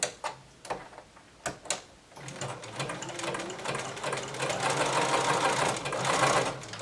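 A sewing machine runs a long straight stitch through fabric to gather it into ruffles. A few separate clicks come first, then a steady, close whirring hum that builds slightly and holds to the end, with no talking.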